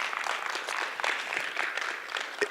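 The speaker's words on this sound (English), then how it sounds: "we can clap it up for that, right?" Steady applause from a crowd, a dense patter of clapping hands lasting a couple of seconds without talk.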